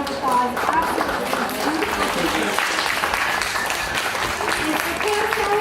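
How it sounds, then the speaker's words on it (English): Audience applause at the California Strawberry Festival, a steady wash of clapping for a chef that runs the full length, with scattered voices mixed in underneath. "Can we give Chef Martin a round of applause?"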